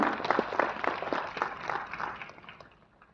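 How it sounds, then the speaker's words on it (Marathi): Applause rises from the crowd at a combined jayanti celebration and award ceremony, a dense spatter of many hands clapping together at moderate loudness that holds steady and then fades out. "जनकल्याण युवा विचार मंचसाठी एकदा जोरदार टाळ्या झाल्या पाहिजे"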